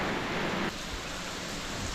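Heavy rain falls in a steady, dense hiss that is loud and close, with a brief shift in texture partway through and no voices.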